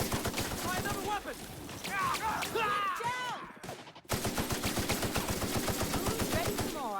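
Rapid automatic gunfire from the video game The Outer Worlds rattles in fast bursts, with a brief pause before the shooting resumes, while voices and game dialogue talk over it.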